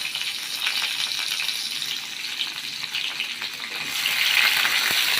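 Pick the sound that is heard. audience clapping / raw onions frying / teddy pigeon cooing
raw onions frying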